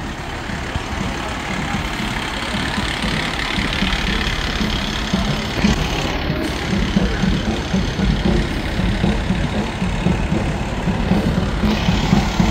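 Antique fire engine idling at a fire department 150th anniversary parade in Katonah, a steady low mechanical rumble running continuously and close throughout with no talk over it.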